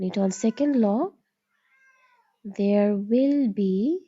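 A cat meows in several loud, close, drawn-out calls with bending pitch, separated by a brief pause, while a person speaks faintly at the start.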